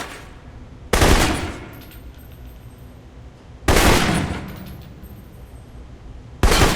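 Assault rifle fire in Alpha Protocol: three loud, separate bursts of gunfire, each ringing out and decaying slowly, with quiet ambience in between.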